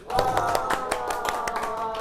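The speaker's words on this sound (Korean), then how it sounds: "박수." A small group in a chemistry classroom claps in quick, scattered bursts over a steady tonal background, close and moderately loud.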